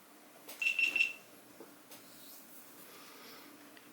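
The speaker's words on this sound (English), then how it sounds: "It beeps a few times, as you can hear." Three quick high-pitched electronic beeps in a row from a GoPro HERO7 Black camera during a firmware update, fairly clear against a quiet hum, followed by faint background noise.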